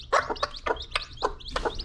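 Hen with her five newly hatched chicks, heard as a run of close, high chirps and short clucking calls in quick irregular succession over a low background rumble.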